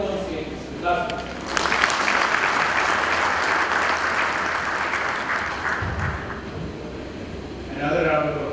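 Loud, sustained applause from a large audience at the Next 100 event in Pune rolls on for several seconds, with a brief spoken voice before it begins and another as it fades.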